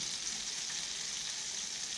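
Vegetables sizzle steadily in a hot pan for Mumbai-style pav bhaji, a soft continuous frying hiss with faint crackle and no voices.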